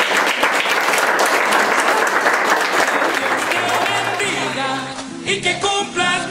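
A church congregation claps loudly and steadily, then the applause thins into scattered claps and a few voices near the end.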